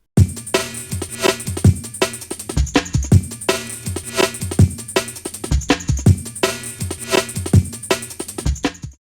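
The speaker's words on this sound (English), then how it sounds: "just turn this pitch down by 5 semitones" A chopped Amen drum break plays pitched down 5 semitones, its punchy kicks and snares sounding deeper and slower, with a steady looping rhythm and no voices.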